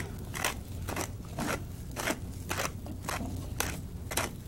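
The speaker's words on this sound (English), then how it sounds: "Okay, just crack in some pepper there." A pepper grinder cracks pepper over a dish in a television cooking kitchen, with a run of about eight sharp, rhythmic crunching grinds close by and no talking.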